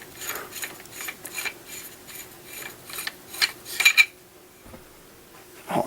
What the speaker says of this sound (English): I'm going to take the barrel off just for convenience.